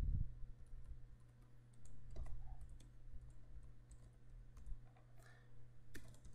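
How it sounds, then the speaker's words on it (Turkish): Keyboard keys are tapped while an e-mail subject is typed in Outlook 2013, giving faint, irregular clicks spread over a low steady hum with no talk. "Konuyu yazıyorum."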